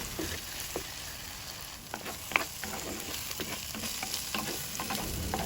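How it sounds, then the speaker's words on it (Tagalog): Sautéed eggs with tomatoes sizzle quietly in a pan, with a steady soft fry and frequent light scrapes and taps of a spoon as the mixture is stirred. "Ayan, halu-haluin lang din natin."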